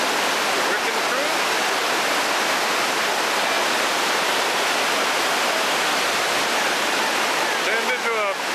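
Whitewater rapids on the upper Yatt river rush down a rocky chute as a loud, continuous broadband roar, steady throughout with some faint splashing near the end.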